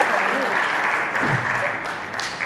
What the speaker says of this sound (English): give them a round of applause. Our visitors from Ireland and the World Fiddle Ensemble.